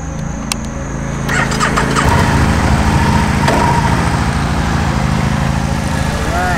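A Can-Am ST Limited three-wheel motorcycle with 6,794 miles on it starts and settles into a steady running engine, loud and close, with a voice briefly audible near the start.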